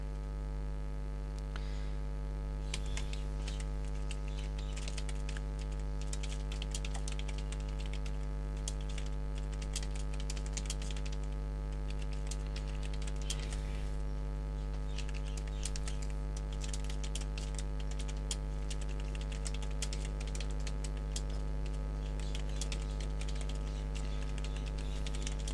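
Steady clicking of keys on a computer keyboard as text is typed into a WordPress post, bursts of keystrokes running throughout over a constant low electrical mains hum, with no talking.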